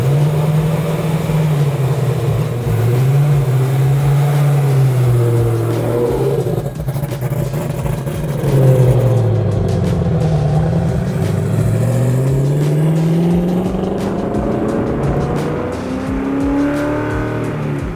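A 750 hp 1970 Plymouth Cuda engine revs hard while driving, its loud V8 roar rising and falling through repeated high-rpm pulls and shifts, heard from inside the car.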